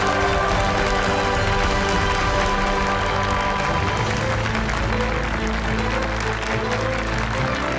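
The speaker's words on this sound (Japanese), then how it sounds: "リーダーの器を見せたヤスに会場からは拍手が送られた。" Venue audience applauding at a live Clash of Clans versus event: continuous, loud crowd clapping layered over music and background broadcast sound, with no pause.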